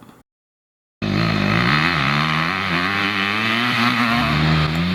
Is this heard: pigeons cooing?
no